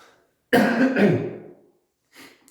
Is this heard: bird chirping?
no